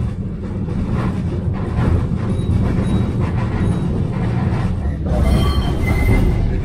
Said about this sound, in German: Das hier, das ist diese urinfarbige Bahn, wo wir jetzt gerade drin sitzen.